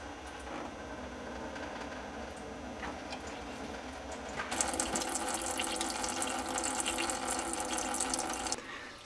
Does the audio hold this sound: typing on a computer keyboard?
no